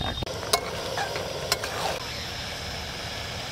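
Poultry chicken sautéing in oil in a pot, low steady sizzle with a few sharp spoon scrapes and clinks against the pot early on, close and continuous.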